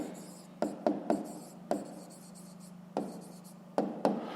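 Pen writing on paper while solving a fifth-grade math exercise: a close series of short scratchy strokes and taps in an irregular rhythm, with no talk.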